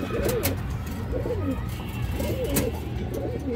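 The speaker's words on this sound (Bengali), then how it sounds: "খুবই সুন্দর একটা মাদি কবুতর" A female Muslim-dam pigeon coos in four soft, rolling bursts spread evenly across the moment, close by over a low steady background rumble.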